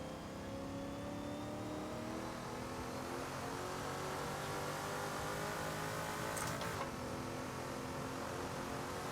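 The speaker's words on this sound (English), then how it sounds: "Especially one that you're revving up to over 7 grand like this" A 1970s Trans Am race car in the Assetto Corsa racing game, its engine droning at high revs in a steady, continuous roar with a brief sharp whine near the end and no speech.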